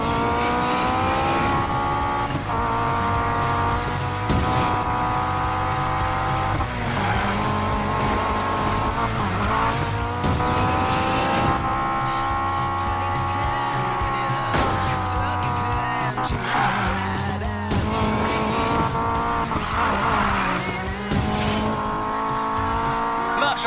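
Race cars in the Need for Speed Payback video game roar continuously as they accelerate, with engine pitch rising and dropping through gear changes and tires squealing. German voices talk over the loud engines throughout.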